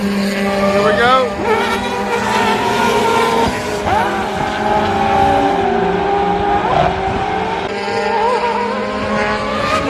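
Historic sports race cars, including closed-cockpit rotary-engined cars, roar past at Road Atlanta during a Mitty historic race, with loud, high-revving engine whines rising and falling as they pass, under a voice talking.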